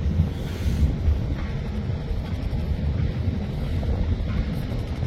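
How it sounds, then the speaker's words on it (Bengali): Wind buffets a launch on a foggy winter river, a steady low roar of gusts and rumbling engine noise that continues evenly throughout without any voices. "বাতাসও কিন্তু আছে ভালো"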